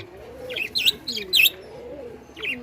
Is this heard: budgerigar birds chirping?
yes